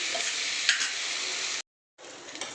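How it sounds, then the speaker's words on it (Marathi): Okra stir-frying in a pan over medium heat, a dense continuous sizzle with a faint tick, cut by a brief silent gap before the frying hiss resumes. "गॅस मीडियम ठेवून आपल्याला परतून घ्यायचं चांगलं भेंडी"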